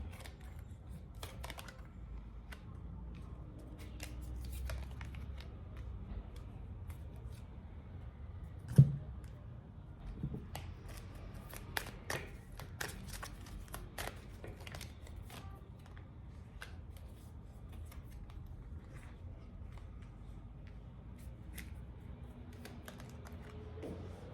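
Tarot cards are shuffled and drawn, with soft, faint riffling and scattered light taps and clicks in a quiet room.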